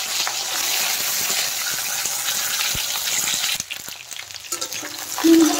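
Cut flat beans dropped into hot oil with nigella seeds and green chillies, sizzling and frying at a steady close hiss before the sound breaks off and the oil crackles again more quietly.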